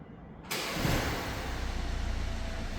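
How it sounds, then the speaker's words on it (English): A 2026 BMW X1 xDrive28i engine cranks on a remote cold start about halfway in, then settles into a steady, fairly loud idle with a low rumble. "And there's your remote engine start, cold start."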